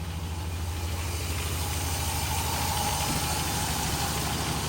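A 2003 Dodge Ram truck engine idles steadily after startup, a continuous low rumble with a faint ticking knock, close and loud throughout with no talk.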